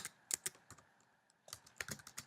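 Keys clack on a computer keyboard while code is typed, in two bursts of quick, irregular taps separated by a short pause, close and fairly quiet with no talking.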